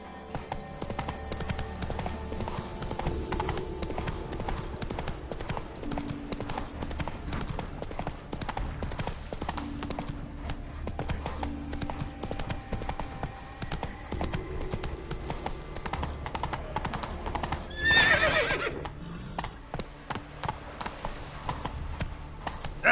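Roach the horse gallops in Witcher 3, a steady, fairly quiet clip-clop of hooves running throughout, with a brief whinny-like burst near the end.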